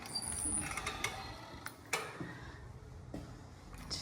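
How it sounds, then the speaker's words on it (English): A screen door on the front porch of a period home opens and closes with faint clicks, taps and a soft creak of the hinge, quiet and close, without any talk. "screen door"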